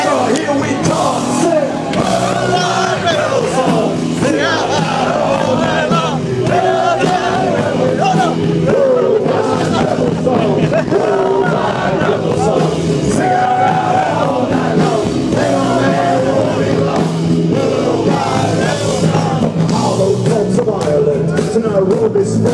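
A concert crowd at a show in San Francisco shouts and sings together, a dense, loud, continuous roar of massed voices over music that never lets up.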